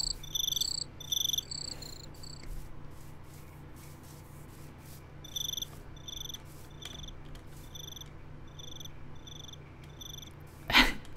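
Minecraft crickets chirp in short bursts of high trills, pausing and resuming, over a quiet ambient hum, with a sharp brief noise near the end.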